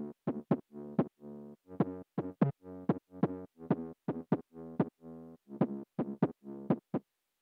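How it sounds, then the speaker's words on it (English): Deep, booming 808 bass notes pulse in a rhythmic pattern with sharp attacks, each short and punchy, repeating steadily with no other sounds. "there is an 808 bass"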